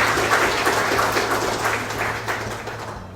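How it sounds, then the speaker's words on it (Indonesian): Audience applause at a public consultation meeting on Cianjur's regional development plan, a dense, steady wash of many hands clapping that fills the hall and slowly fades toward the end, with a low hum underneath. "tepuk tangan paling meriah untuk Bapak"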